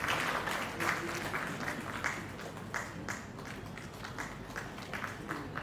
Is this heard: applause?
yes